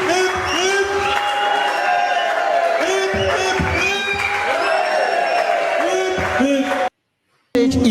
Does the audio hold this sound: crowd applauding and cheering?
yes